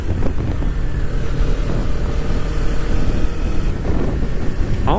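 A Kawasaki Ninja 300 motorcycle is ridden at a steady pace, its engine drone buried under loud, constant wind buffeting on the microphone.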